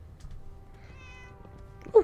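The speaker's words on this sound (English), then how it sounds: "Oh, cat." A cat character in a video game gives a single short meow near the end, after a quiet stretch of soft tonal game ambience.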